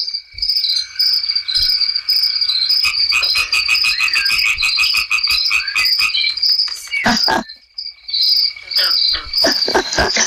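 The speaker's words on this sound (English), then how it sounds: "My goodness, those insects are very noisy." Dense, loud chorus of insects and frogs calling outdoors beside a library, with steady shrill chirring and pulsing trills throughout and a few sharper croaks cutting in.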